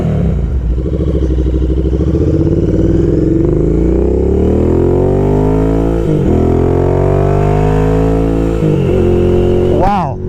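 A modified Royal Enfield Interceptor 650 with an upgraded exhaust revs loudly and close by, its deep parallel-twin note rising and falling in several swells with brief throttle blips near the end.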